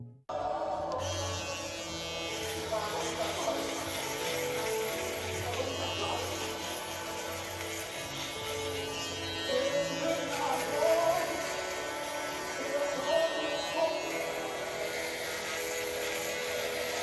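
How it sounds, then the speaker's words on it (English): A steady electric shaver buzz from a TPOB GO clipper, White Out Edition, hums continuously, fairly close, with slight shifts in pitch as it moves, no talking. "But that is the shaver."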